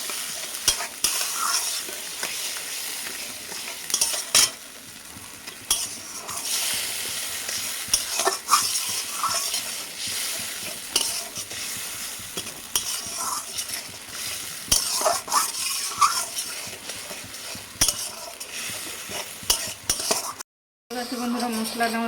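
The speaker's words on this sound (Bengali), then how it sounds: "আবার আমি একটু ভালোভাবে নাড়াচাড়া করে নেব।" Spice paste for a Bengali moroila fish curry with okra and tomato frying in a pan, stirred with repeated scraping and clinking strokes over a steady close sizzle, with no talking.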